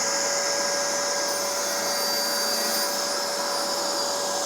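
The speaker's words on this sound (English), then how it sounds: "Turn off my dust extraction" A dust extractor vacuum runs alongside a Festool saw in a workshop, a loud, steady whooshing drone with a constant high whine held for the whole stretch, no talking.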